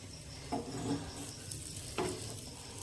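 Aloo paratha frying quietly in a pan, a soft steady sizzle with a couple of faint scraping touches from a utensil, low and fairly close with no talking.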